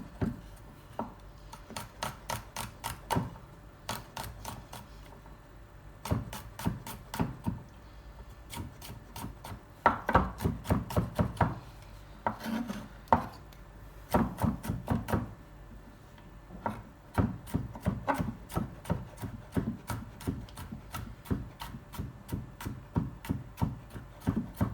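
A knife chops three or four garlic cloves finely on a board, with rapid, steady bursts of crisp close taps in quick runs broken by brief pauses, for macaroni with vegetables and chicken.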